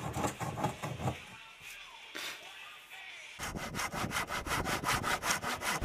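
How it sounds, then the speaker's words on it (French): A hand saw cuts through the end of a wooden Les Paul-style guitar neck, rhythmic rasping strokes that pause briefly and then resume faster and steadier, close up. "Je découpe ensuite le bout du manche car il était trop long."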